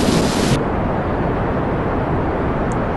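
Spacecraft thrusters fire in Kerbal Space Program as a loud, continuous roaring rush of broadband noise. A brighter burst at the start drops after half a second into a steady, dense rumble that runs on alone.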